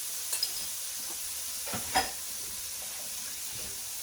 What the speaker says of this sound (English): we'll let the shrimp cook for about a couple of minutes on each side, maybe a minute or so more on the other side